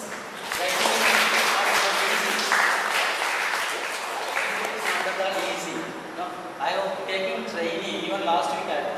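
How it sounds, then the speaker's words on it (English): An audience claps for a speaker at a soft-skills talk on writing, sustained and broadband for most of the span, with voices audible over it. "why don't you clap for this?"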